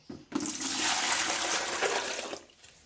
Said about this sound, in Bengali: এই বালতিটায় আমি ঢেলে নিচ্ছি এটা এক গামলা মাংস ধোয়া জল